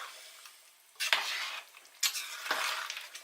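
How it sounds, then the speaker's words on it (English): Spoon stirring a pot of Caribbean-style pineapple chicken stew at a low simmer, three close scraping strokes through thick, wet food with a faint sizzle between them. "Give that a stir."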